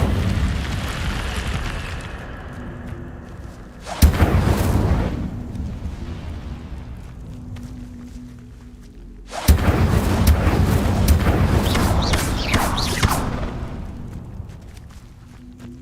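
Incendio fire spells cast in Hogwarts Legacy erupt in two loud, booming bursts, each swelling with a crackling rush and then a rumbling tail, with a steady low roar between them.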